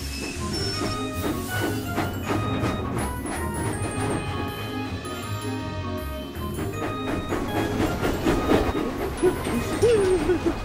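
A toy train rattles and clatters along its track with rhythmic clicking and occasional bumps, a busy, continuous mechanical rumble close by.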